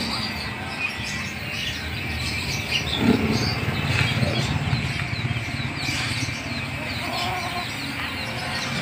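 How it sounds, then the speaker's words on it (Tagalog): Several Rhode Island chickens cluck and murmur close by in an irregular chorus, with a few louder squawks over a steady farmyard background. "Mga manok niya."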